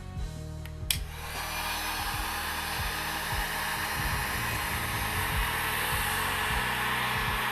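A heat gun blows on high heat at a sneaker, a size 15 Foamposite, a steady loud rushing whoosh after a brief click at the start, running without pause under no speech.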